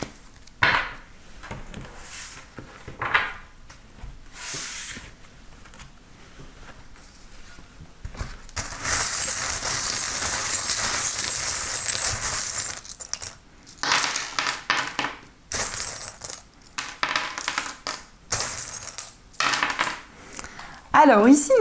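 Divination charms cast onto a surface, a scatter of small clinking, tumbling drops in several separate bursts, with a longer rattling spill in the middle, close and fairly loud.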